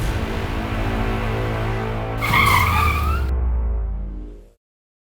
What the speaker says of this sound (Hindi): सर, गाड़ी क्यों रोक दी?